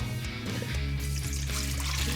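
About a quart of milk is poured from a container into a bowl, making a continuous close liquid pour with a low gurgling trickle that runs steadily for a couple of seconds, with no talking.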